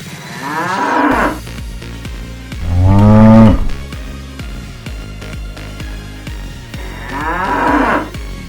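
A bull bellows in long, loud moos, three separate calls spread across the stretch with quieter rural background between them and no talking.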